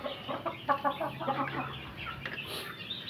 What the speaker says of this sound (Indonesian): gue baru selesai ngasih makan nih ayam